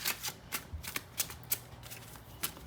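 Tarot cards riffle and slap in quick, uneven bursts, close and soft, a brief run of shuffling with no talking.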